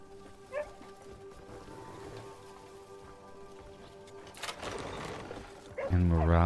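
A big dog in Crimson Desert gives a loud, deep bark or growl at the very end, after a stretch of quieter game ambience and faint background sounds.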